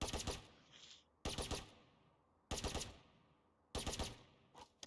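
Killjoy's automated turret in Valorant fires four short, loud bursts of rapid gunfire, evenly spaced about a second apart, each trailing off into a faint decay with no voices.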